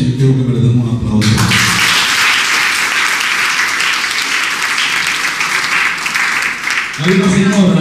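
A crowd bursts into loud, sustained applause lasting several seconds, with someone talking just before and after it.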